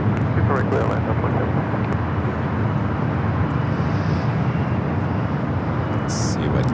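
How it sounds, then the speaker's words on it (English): An airliner landing on runway 24 right at Los Angeles International Airport gives a steady, loud broadband roar of jet engines and rushing wind that holds throughout without a break. "Delta 2766, runway 24 right, clear to land."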